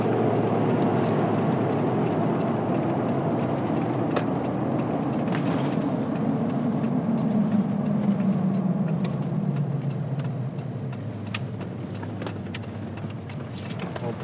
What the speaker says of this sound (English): right turn coming up now onto the gravel